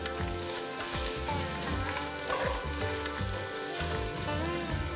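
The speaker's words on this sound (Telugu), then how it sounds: "నెక్స్ట్ నేను దీంట్లో ఒక పెద్ద ఉల్లిపాయ బాగా సన్నగా తరిగి వేస్తున్నాను" Thinly sliced onion fries in hot oil for bagara rice, giving a loud, continuous sizzle and crackle with no voices over it.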